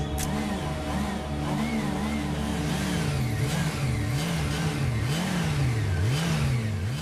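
Police motorcycles revving on the streets of Manila, engines rising and falling in repeated wavering surges over a steady traffic roar, loud and close throughout.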